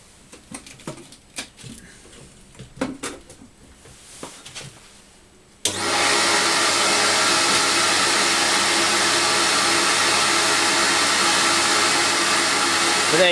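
CamVac dust extractor running on one motor with a single baffle tube, a steady loud broadband whoosh that starts abruptly partway through and continues evenly after a stretch of quieter workshop sounds.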